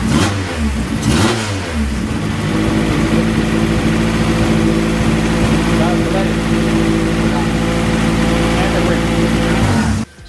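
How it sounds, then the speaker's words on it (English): A Honda Civic hatch running basically open headers starts up after a couple of cranking bursts, then holds a loud, raw, rumbling idle with steady harmonic drone before cutting off abruptly near the end. "it is basically open headers, so it is going to be loud"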